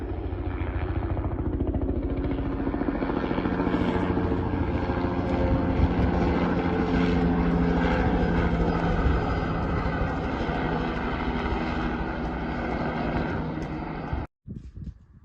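A fire patrol helicopter circles overhead, its rotor and engine drone steady and loud for the whole stretch before cutting off abruptly near the end, with no voices.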